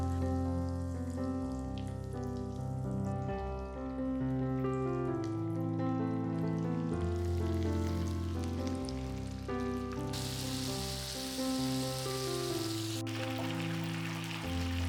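Chicken pieces coated in flour deep-frying in hot oil for crispy salted fried chicken, giving a steady crackling sizzle beneath a sustained tonal background that swells into a louder hiss partway through.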